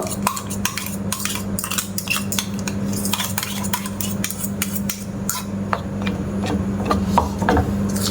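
Batter blended with ripe mango paste for a homemade pitha is stirred by hand, giving a steady run of close scraping and light clinks against the bowl, with no talking.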